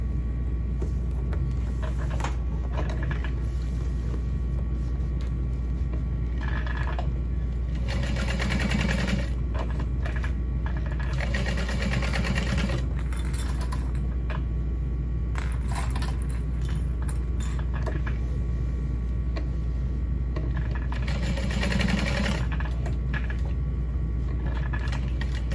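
A sewing machine stitches a Mini Mercury backpack, running in steady mechanical bursts with brief pauses between runs, close and continuous over a low motor hum, with no talking.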